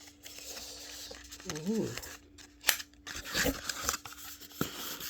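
A delivery package of Korean beauty products is cut and torn open with crinkling and snipping sounds, while someone talks throughout.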